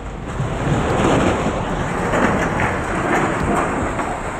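A raging river in flood near Joshimath, Chamoli, after heavy rain, roars as a loud, continuous rush of turbulent water with gusty wind-like swells and no talking.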